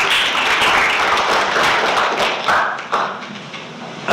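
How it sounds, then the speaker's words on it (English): A conference audience at an education innovation session applauds a presenter, a steady, dense wash of many hands clapping close by that tapers slightly toward the end. "Round of applause for Phil, please."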